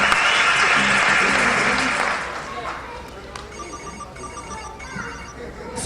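Applause from an audience greeting the poet Meera Dikshit onto a stage at a poetry event, loud at first and then thinning out, with a ringing phone and faint talk rising over the fading claps.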